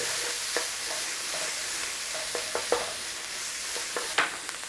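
Garlic and onion sauté in a pan with a soft, continuous sizzle and occasional light scrapes and taps of a spoon, close and fairly quiet.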